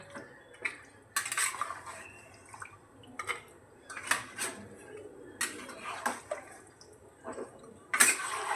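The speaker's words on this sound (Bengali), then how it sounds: "ভালো করে নাড়াচাড়া করে ঢাকা দিয়ে দেবো।" Kolkata-style biryani is stirred in a pot and then covered, with close, irregular scrapes and clinks of a utensil against metal, ending in a brighter clank like a lid set down.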